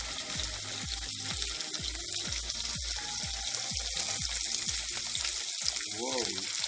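Garlic frying and slightly burning in a pan, a steady close sizzle and hiss with repeated scraping or stirring strokes, with faint voice-like sounds toward the end.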